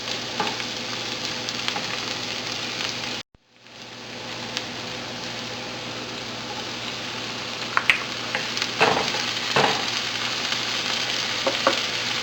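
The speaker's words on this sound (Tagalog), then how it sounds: "Lulutuin natin ito sandali hanggang sa lumambot lang yung tomato" Tomato frying for pork binagoongan, a continuous close sizzle and crackle with a brief dropout near the start, then steady hissing with occasional pops and stirring scrapes, no voices.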